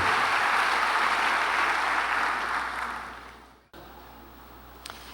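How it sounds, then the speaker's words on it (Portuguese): A church congregation applauds loudly and continuously, then the clapping fades away and stops abruptly, leaving quiet room tone. "Vamos aplaudir o Senhor por esse milagre na vida desse homem."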